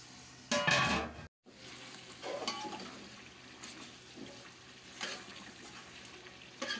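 Beef fries in a pot for beef pulao, with a faint, low sizzle under scattered stirring and scraping knocks at irregular intervals, close by and without talk.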